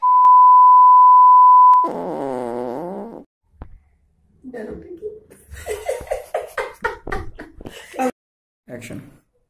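A steady electronic tone sounds as a phone call is cut off, a single loud held beep lasting almost two seconds, followed by a voice and other sounds.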